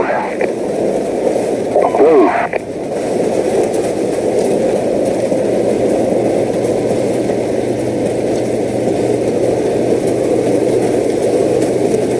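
Enemy vehicle in the video game Call of Duty 4 Modern Warfare: a loud, steady engine rumble with a rattling drone that holds throughout, with a brief voice near the start.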